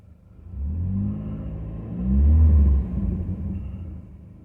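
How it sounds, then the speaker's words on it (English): A 2003 Saturn L200 engine with high mileage idles in a low, steady rumble, swelling briefly as it revs up around the middle before settling back to a quiet, even idle. "check out the idle"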